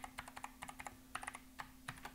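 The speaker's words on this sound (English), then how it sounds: "I'm typing in one of my standard complex passwords" Rapid, uneven clicks of computer keyboard keys as a complex password is typed on a Windows server login, a steady run of close, light taps over a constant electrical hum.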